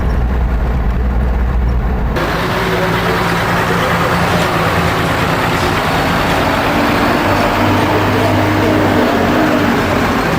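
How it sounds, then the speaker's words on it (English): A heavy truck carrying straw rumbles by on a road near Peshawar, its engine a loud low drone swelling over steady traffic noise. "One truck carrying straw going up to"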